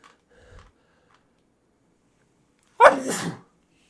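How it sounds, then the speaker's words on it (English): A single sharp, loud sneeze bursts out after a stretch of near silence, preceded by a faint rustle. "I'm going to sneeze."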